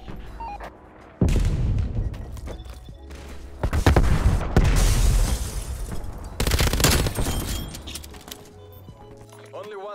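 Bursts of MG 82 light machine gun fire in a shooter video game rattle repeatedly in a fast, dense barrage that rises and falls across the stretch. A voice talks over the game sounds.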